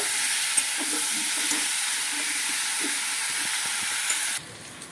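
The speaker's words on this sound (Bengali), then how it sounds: "এবার আলুগুলো দিয়ে দিচ্ছি ভাপিয়ে রাখা আলুগুলো আলুগুলো দিয়ে নেড়ে ফেলে নিচ্ছি ভালো করে" Steamed potatoes are stirred and fried with onions in a pan, a steady close hiss of sizzling oil with light scraping of the spoon, cutting quieter near the end, no talk.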